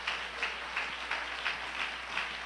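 Church congregation applauding in a steady, moderately distant burst of clapping with a faint rhythmic pulse, no voices over it.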